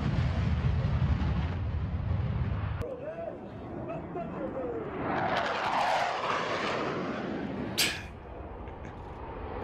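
A USAF Thunderbirds jet roars past during an air show highlight, a broad swelling rush that builds and fades, with a sharp loud burst near the end and voices talking over it.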